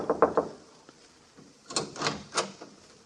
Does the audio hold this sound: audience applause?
no